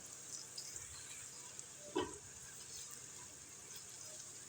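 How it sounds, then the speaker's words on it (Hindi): Chopped onions fry in ghee with a faint, steady sizzle, and one soft stirring clack partway through. "प्याज को इसमें डालेंगे और हल्का सा ब्राउन करेंगे"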